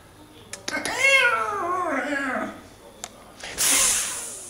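A domestic cat gives a drawn-out, close meow that slides down in pitch, with a brief clatter and a burst of noise afterward.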